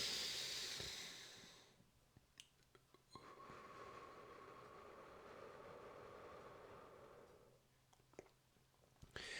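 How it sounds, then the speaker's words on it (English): One slow, deliberate breath taken close and quiet: a soft hissing inhale, a long pause, then an airy exhale, with faint background noise and no talking. "Or one mindful breath,"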